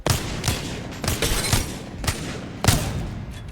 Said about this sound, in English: Take your time between the shots at first, and then you can start getting faster and faster